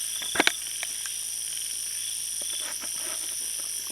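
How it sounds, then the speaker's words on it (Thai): A banded bullfrog in rural Thailand gives a couple of quick, close croaks early on, then a few fainter calls over a steady night background of high insect trilling. "คืออึ่งอ่างนี่"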